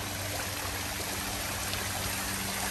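A waterfall feature at a Disney resort pool splashes in a steady, dense rush of falling water, heard close and continuous with no talking over it.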